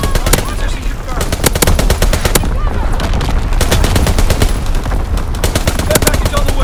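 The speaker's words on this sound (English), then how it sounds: "Firing division artillery." Rapid, loud bursts of automatic gunfire and booming impacts rattle continuously during a team deathmatch on the Shipment 1944 map in Call of Duty: WWII, as division artillery is called in.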